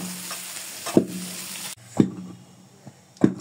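Tengra fish go into new potatoes frying in oil in a pan. A constant crackling sizzle is broken by three sharp thumps of stirring, and the frying noise suddenly drops quieter about halfway through.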